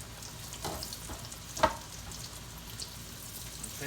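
Floured green tomatoes and yellow squash frying in hot grease, a steady close sizzle and crackle with a sharper pop or spatter partway through.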